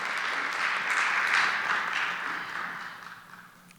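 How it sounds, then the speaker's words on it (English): Dense, washy applause from a lecture audience honoring a community service team, swelling and then tapering off toward the end. "A round of applause for those amazing men and women and folks who could be doing anything."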